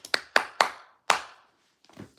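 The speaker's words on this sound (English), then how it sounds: "I can clap." A single person clapping hands, four sharp, close claps in a quick uneven rhythm followed by a pause and a softer, faint patter of small taps.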